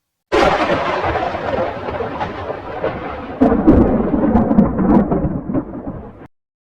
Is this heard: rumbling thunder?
yes